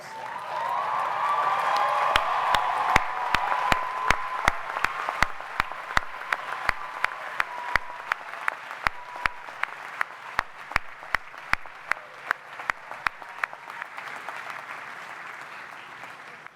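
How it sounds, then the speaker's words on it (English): Commencement applause as the Manhattan College graduating class of 2017 stands to clap for their families: dense, sustained clapping from a large crowd, with sharp individual claps standing out and a steady wash that slowly thins over the stretch. "please rise and give your families a round of applause"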